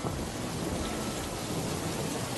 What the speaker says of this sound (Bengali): আকাশে জোরে বিদ্যুৎ চমকাতে লাগলো, মুষলধারে বৃষ্টি শুরু হলো, জোরে হাওয়া বইতে শুরু করলো।